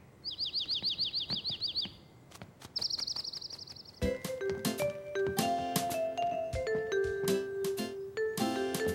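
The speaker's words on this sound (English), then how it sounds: "Look! A bird!" Rapid trilling cartoon bird chirps repeat in two bursts in a children's cartoon, followed by a bright run of clinking, bell-like tones ringing in a quick melodic pattern.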